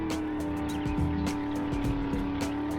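A car driven in the 7 Days to Die survival game gives a steady engine drone with a sustained tone, while brief clunks and thumps break through now and then.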